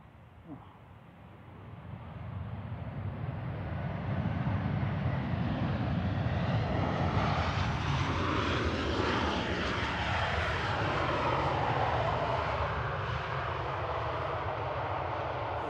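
A ten-year-old Lufthansa Airbus A320 Classic from Frankfurt lands on runway 05 right at Manchester Airport, its broad jet roar swelling from a quieter start and holding loud and steady, with a falling whine sweeping through the wash.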